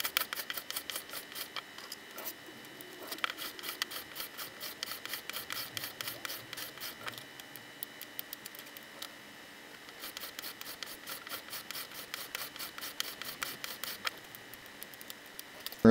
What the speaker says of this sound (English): I'm going to stop scraping at this point